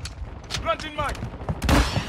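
Short bursts of gunfire crack and thud during a Call of Duty Modern Warfare 2 multiplayer Domination match, close and punchy, with a voice speaking briefly between the shots.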